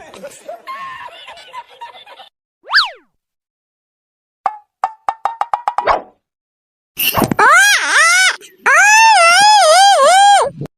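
Cartoon child in a Bangla comedy cartoon bursting into loud, wavering wails near the end, following earlier brief voices and plucky sound effects.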